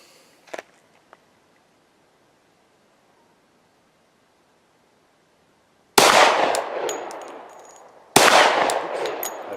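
Glock 40 MOS pistol firing a string of rounds, loud sharp shots starting after a few seconds of near silence with a faint click, then two dense bursts of blasts ringing out.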